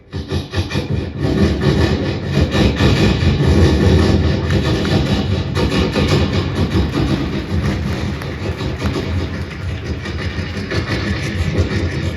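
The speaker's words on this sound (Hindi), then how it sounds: "जब ट्रैक चेंज होते हैं, पटरियां चेंज होती हैं, तो जो चटर पटर की आवाज निकलती है" A train rolls over track switches onto the main line, giving a loud, continuous rumbling clatter with rapid rhythmic knocks of wheels on rail joints that stays close and steady throughout, with no talking.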